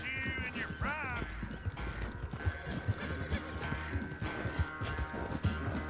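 Horse hooves clip-clop steadily in Red Dead Redemption 2, with a rising whinny near the start; a voice talks at times over the continuous galloping.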